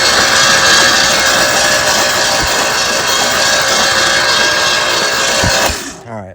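The engine of a 1967 Lincoln cranks over with the spark plugs removed, a loud, steady whirring drone with the valves moving, running unbroken for several seconds before cutting off.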